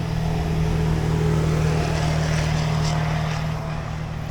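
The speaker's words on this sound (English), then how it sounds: "All these big trucks are loading their boats up and leaving, so that's the noise you hear." Big trucks loading boats at a launch in a South Louisiana wildlife management area near Lake Pontchartrain, a steady low engine drone and idle rumble holding throughout at moderate distance, easing slightly near the end.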